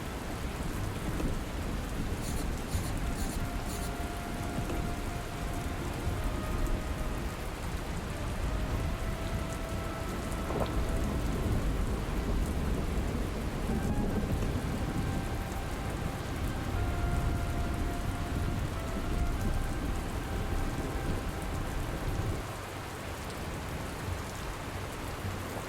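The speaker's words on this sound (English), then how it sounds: "I'm going to collect some rainwater while it was heavy rain" Heavy rain pours steadily in the post-apocalyptic trucking video game Dustland Delivery, a dense continuous hiss with low rumbles of thunder rolling beneath it throughout.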